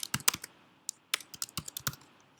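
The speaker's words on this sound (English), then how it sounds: "you type your name here" Keys on a computer keyboard clatter in quick, uneven bursts of close, crisp taps with short pauses between them and no talking.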